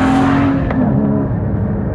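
A 2015 Porsche Cayman GT4's 3.8-litre engine revs loud and close, its strong tone sliding down in pitch as the revs fall away. No voices.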